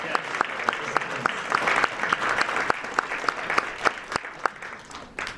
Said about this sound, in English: can I get another round of applause for our readers today?